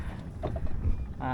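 A fishing boat moves out across the Jamuna river near Sariakandi, Bogura; low engine and water rumble mix with wind buffeting the microphone, and a brief tonal whine rises at the end.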